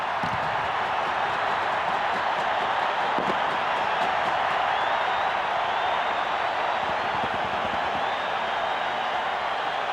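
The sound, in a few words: stadium crowd cheering after rugby try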